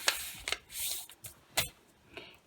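A sheet of yellow paper is folded by hand for a snowflake, giving several short, close crinkling and creasing rustles in quick succession with brief quiet gaps.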